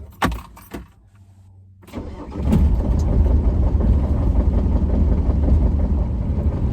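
A diesel vehicle engine cranks and catches after a few sharp clicks and jingling keys, then settles into a loud, close, steady idle rumble.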